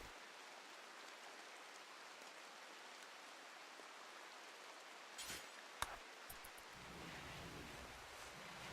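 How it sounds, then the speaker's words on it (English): Rain in the video game RimWorld, a steady soft hiss of falling rain throughout, with a few brief sharp clicks near the end and a low rumble rising in the last seconds. "Since it's raining."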